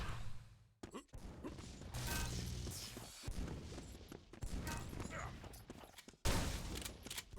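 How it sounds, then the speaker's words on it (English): Shotgun blasts boom in a Doombringer arena duel match, mixed into dense, continuous game noise of gunfire and mechanical clanks, with a sharp loud hit near the end. "Big shotgun blast."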